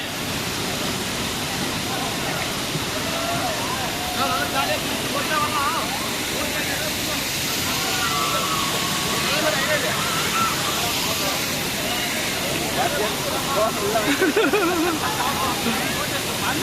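Rushing water pours steadily at a waterfall, a dense broadband roar that stays loud and constant throughout, with people's voices talking over it.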